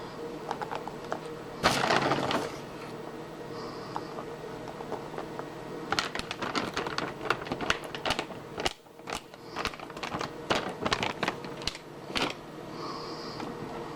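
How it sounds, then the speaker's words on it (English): Pecans being tipped into a bowl of fudge brownie batter: close, sharp clicking and rattling of nuts in a brief burst, then a longer stretch of irregular crackling taps against a faint steady background hum. "I'm just going to add some pecans to the mix"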